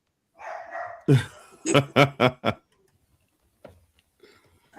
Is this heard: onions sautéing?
no